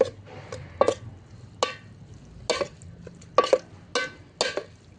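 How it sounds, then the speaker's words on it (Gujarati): Maggi noodles being stirred in a cooking pot, giving a run of about ten separate scraping and clattering strokes at an irregular pace, moderately close and with no talk. "આ મેગીને મિક્સ કરી નાખશું."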